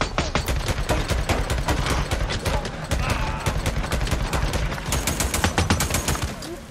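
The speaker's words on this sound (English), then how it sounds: "Shooting us with all that machine gun" Machine gun fire in the video game Days Gone: rapid, loud, evenly spaced bursts of automatic shots running almost continuously, close and harsh.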